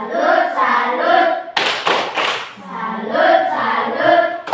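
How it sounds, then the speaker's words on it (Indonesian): A group claps out a rhythmic Indonesian 'tepuk salut' pattern in a classroom: a short burst of sharp, close hand claps sits between stretches of people speaking. "tepuk salut untuk mereka dulu"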